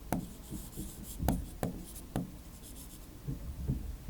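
Handwriting on a paper map of Indian states makes soft, close scratching strokes in short irregular bursts, with small taps as the pen touches down, quiet and without talk.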